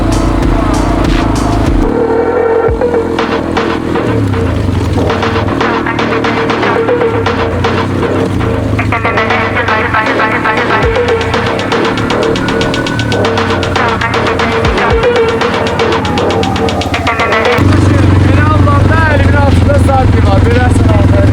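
A motorcycle engine runs and throbs nearby, rising and falling in revs, loud and continuous with occasional clatter.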